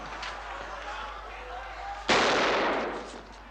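A single sharp gunshot cracks suddenly from a Western film scene set in 1969, loud and close, its burst decaying over the next second.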